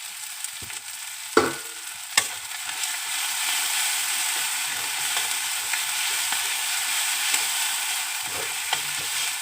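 Spices fry in a pan of oil with a continuous close, loud sizzle, punctuated by a few sharp scraping knocks as a utensil stirs them.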